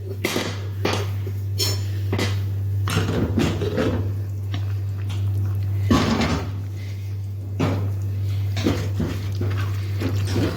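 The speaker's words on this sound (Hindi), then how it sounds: "इसका प्रेशर निकल गया। अब इसको खोल के देख लेते हैं।" A pressure cooker of boiled black chickpeas is opened in a kitchen, giving scattered metallic clanks and knocks from the lid and pot over a steady low electrical hum.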